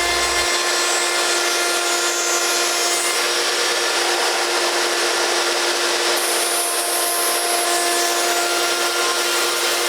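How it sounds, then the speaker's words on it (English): A router fitted with a 2-inch pattern bit on a stand cuts wooden planks for a Craftsman-style gate, giving a steady, high whirring cut that runs continuously and evenly close up, with no talking. "I used a 2-inch pattern bit and a CMS stand to cut out the cloudlift planks"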